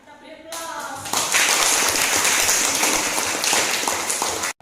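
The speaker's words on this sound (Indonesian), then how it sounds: "Oke ya, kita beri aplaus." A class applauds after a lesson on inventory accounting, starting with a brief voice and then breaking into dense, sustained clapping that stays loud until it cuts off abruptly near the end.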